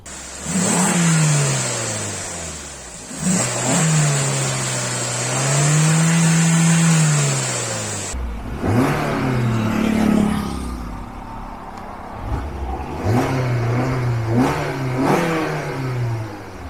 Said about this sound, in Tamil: இப்போ 1 year கழிச்சு இதனுடைய என்ஜின் சவுண்ட் எப்படி இருக்குன்னு பார்க்கலாம்.